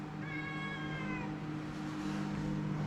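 A pet cat at home lets out a single drawn-out meow near the start, fairly close and clear, over a constant low household hum, then stays quiet.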